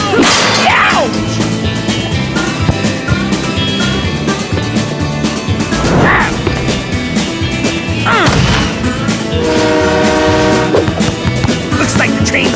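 A train horn in an animated football cartoon, sounding several times as loud tooting blasts over a busy, noisy cartoon soundtrack, with the last blast longer and more sustained.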